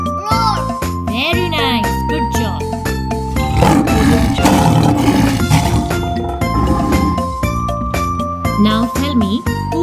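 Lion roars from a children's lesson on jungle animals, loud and layered over tinkling jingles and background music, with a voice briefly heard.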